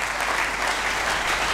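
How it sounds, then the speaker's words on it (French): Congregation clapping in a church service, a dense, steady wash of applause throughout with no gaps, loud and close. "Acclamons très fort."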